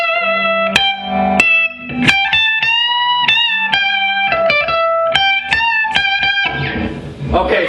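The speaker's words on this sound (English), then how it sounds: "Reverb. It gives that hall effect," Electric guitar played through a Marshall JCM 900 amplifier with reverb, a run of clean, sustained notes and chords each trailing a hall-like tail, loud and close with nothing else over it.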